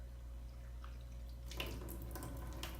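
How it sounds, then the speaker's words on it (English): Water is poured in a swift flush through a semi-hydroponic plant pot, a steady close splash and trickle that begins abruptly partway through after a low hum. "Just a swift flush of water."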